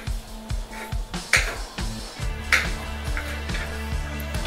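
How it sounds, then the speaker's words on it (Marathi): A knife roughly chops almonds on a cutting board in steady, quick strokes. The knocks are close and crisp, with no talk. "बदाम रफली चॉप करून घेऊया."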